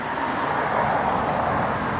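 Steady interior drone of a BMW 330i on the road, a constant low engine and road rumble with even loudness and no distinct events.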